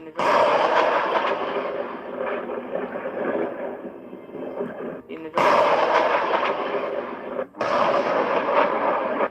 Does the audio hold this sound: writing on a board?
no